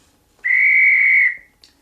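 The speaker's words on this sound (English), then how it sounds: "the other function which I won't be using is a dispatch whistle, or the guard's whistle" A guard's dispatch whistle from a Bachmann Class 66 model locomotive's DCC sound decoder gives one steady, shrill blast of about a second, clear and alone against near silence.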